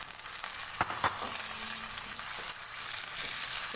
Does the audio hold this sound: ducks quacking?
no